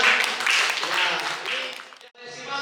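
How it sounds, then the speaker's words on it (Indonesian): Audience applause at a large villa gathering in Puncak, Cianjur, a dense wash of clapping under a voice, dipping briefly before more clapping resumes. "Ya boleh tepuk tangan semuanya."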